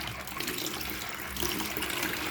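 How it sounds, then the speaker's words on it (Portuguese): Aquarium water poured over filter media to rinse them, a splashing, gurgling trickle running steadily and close, slightly louder toward the end. "Pega, igual eu peguei aqui a própria água do aquário e eu vou fazer aqui, vou jogar aqui um pouquinho."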